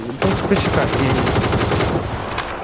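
Sustained rapid automatic gunfire in the video game PUBG, loud and continuous for about two seconds, then stopping abruptly.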